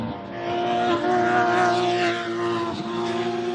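A race car at full throttle on the Laguna Seca circuit during a Gridlife FCP Euro championship session, its engine holding a steady loud harmonic drone with slight pitch wavering, close and continuous with no talk.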